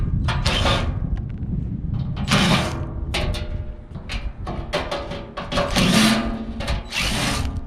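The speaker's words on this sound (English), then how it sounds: "The way to get this blower wheel out is to remove these 4 1/4-inch screws on each side" A power driver removes 1/4-inch screws from a van's ECM blower motor housing: repeated whirring bursts of the tool with short pauses between screws, close and loud, with no talking.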